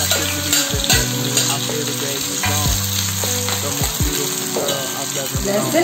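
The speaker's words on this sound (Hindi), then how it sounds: "हम लोग ने उसी कढ़ाई में थोड़ी सी तेल ले ली है। अब हम इसमें थोड़े से लहसुन, प्याज" Garlic and onion fry in hot oil in a kadai, a loud close-up sizzle with stirring scrapes and clanks of a spatula against the pan.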